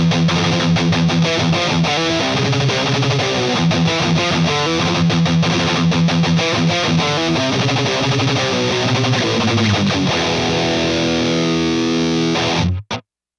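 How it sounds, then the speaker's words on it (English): An electric guitar played through a Headrush tube screamer amp simulation rings out as heavily distorted, continuous chords and riffs at high volume, then cuts off abruptly at the end. "and grab a tube screamer, adjust accordingly. Let's give that a listen."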